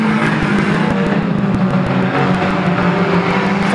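Saloon stock cars roar loudly through a corner in a continuous, dense racket of several engines at once, with a few sharp knocks and no voices.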